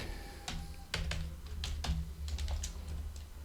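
Computer keyboard keys tapped while typing a subtitle onto a presentation slide: sparse, light clicks at an uneven pace over a steady low room hum.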